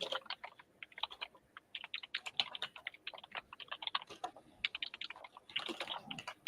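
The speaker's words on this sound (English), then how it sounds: "we both typing." Fast typing on a computer keyboard, irregular bursts of crisp key clicks at close range, fairly quiet with no talking.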